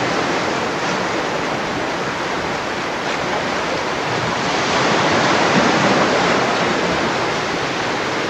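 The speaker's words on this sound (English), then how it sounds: "Here they are, all in the water, fighting the waves." Ocean surf rolling and crashing around swimmers in the water at Cancun, a steady loud wash of broadband noise throughout with a slight swell in the middle and no voices.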